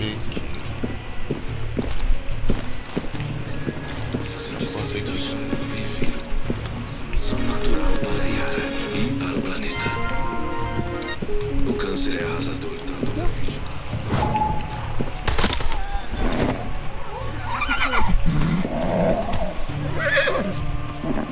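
Horse whinnies and neighs ring out over a busy Far Cry 6 game soundscape with music and effects, while a person talks throughout.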